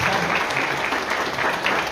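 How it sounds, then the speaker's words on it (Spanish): Full audience applause, a dense, steady clapping throughout, loud and close with a faint murmur of crowd beneath. "les pido un aplauso, por favor"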